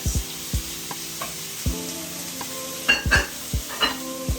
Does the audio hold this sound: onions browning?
yes